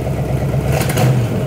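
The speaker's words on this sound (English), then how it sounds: "Want to rev it up a second?" A swapped V8 in a Pontiac Fiero sitting in a garage, its engine revving and surging loudly for a brief moment over a rough, clattery idle, with no talking.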